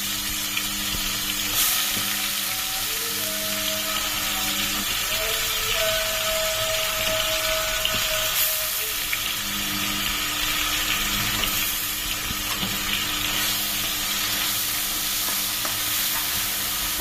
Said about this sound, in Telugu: అల్లం, వెల్లుల్లి, ఆనియన్ పేస్ట్ వేసుకుంటున్నాను ఆయిల్లో